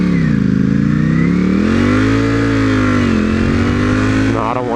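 A Ducati Panigale V4 motorcycle accelerates hard, its engine note loud and close, climbing through the revs, dipping briefly and then rising again toward a sharp shift at the end.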